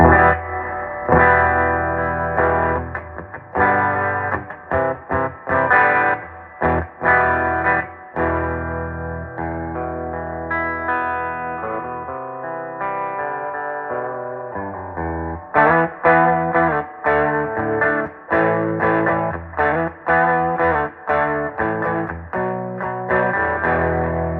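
An electric guitar plays through a vintage Univox U-1226 tube amp with spring reverb, strummed chords and riffs with light distortion and a reverb splash, loud and continuous.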